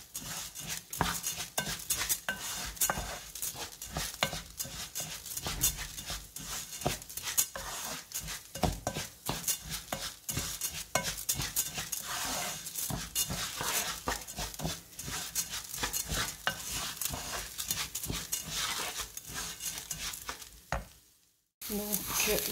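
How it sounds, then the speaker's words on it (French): Rice for a spinach and salmon risotto sizzles in a pan as it is stirred, with continuous frying crackle and scraping of a utensil against the pan throughout, briefly cutting out near the end. "Et on mélange et on laisse notre riz."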